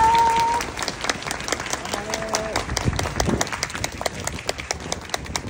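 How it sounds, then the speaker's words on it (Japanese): Applause from an outdoor street crowd at a political rally in Osaka Umeda welcoming a city council candidate, steady clapping running throughout at moderate level with some talk mixed in. "拍手で迎えられていますけども"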